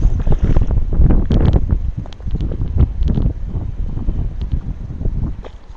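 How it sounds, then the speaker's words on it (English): Gusty wind buffeting the microphone beside a river, a continuous low rumbling roar that swells and dips in uneven bursts throughout, with no talk over it. "It's every time I go to talk, there's wind."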